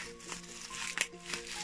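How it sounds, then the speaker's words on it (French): Paper or plastic wrapping around a mailed book package crinkles and crumples in short, quiet bursts, close by. "si j'arrive à le déballer"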